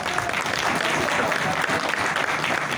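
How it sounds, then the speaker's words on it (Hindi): Loud, sustained audience applause at an insurance award event, a dense unbroken wash of many hands clapping that fills the whole moment without a break. "जोरदार तालियां आपके बजेगी। जोरदार का मतलब जोरदार।"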